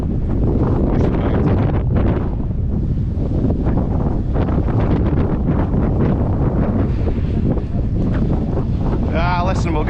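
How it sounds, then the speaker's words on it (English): Strong, steady wind buffets the microphone beside the River Spey at Arndilly during February salmon fishing, a continuous loud roar filling the whole stretch with little letup. "That wind's hard, eh?"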